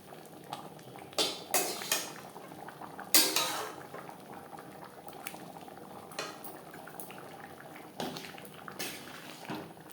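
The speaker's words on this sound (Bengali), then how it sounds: "ডিমের ভুজিয়া তরকার সাথে বেশ ভালো করে মিক্সড করে দেব" Egg bhujia being stirred into a chicken tadka in a pan: a low bubbling simmer under intermittent scraping and clinking of a utensil against the pan, with several louder strokes early on.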